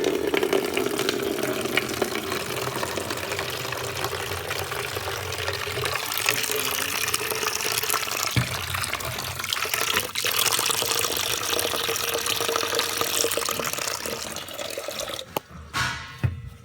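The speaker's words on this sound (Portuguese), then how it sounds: "Enquanto isso, eu vou pegar água no pote." Water pours into a pot at an outdoor campfire spot, a steady rushing splash that runs unbroken for most of the stretch, then cuts off near the end.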